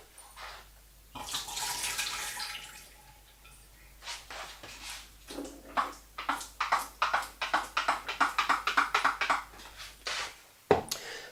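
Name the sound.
water poured down the sink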